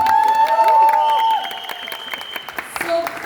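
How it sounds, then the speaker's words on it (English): Audience at a Netflix trailer launch for the Yash Raj film Do Patti applauds and cheers an actress taking the stage, with shrill whistles and whoops rising over loud clapping that fades slightly toward the end. "Yes, a huge round of applause,"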